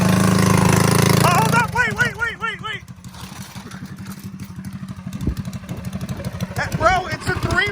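A Predator Stage 3 engine on a three-wheeled minitrike fires up after a loud pull, then settles into a steady, close putter. Brief speech cuts in over the running engine.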